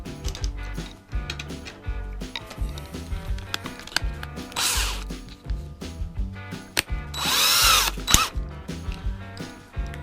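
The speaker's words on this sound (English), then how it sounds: "what I'm going to do is drop my number 6 screws in to the holes that are already drilled" A power tool drives number 6 screws into a YakAttack BlackPak crate, giving a loud, close whirring with ratcheting and gear clatter, and the motor revs up in two strong bursts.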